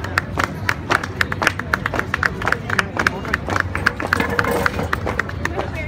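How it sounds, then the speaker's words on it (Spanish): Crowd at a November 20 commemorative parade in Jerez, 2018, claps in a steady rhythmic beat, many hands together and fairly close, over a bed of murmuring voices. "Vamos a darles un fuerte aplauso"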